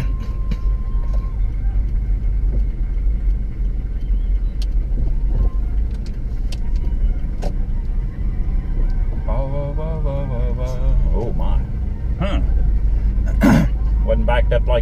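Morning car and motorbike traffic on a Bangkok road heard from inside a vehicle: a constant low road rumble with passing engines and a few brief higher-pitched sounds near the end.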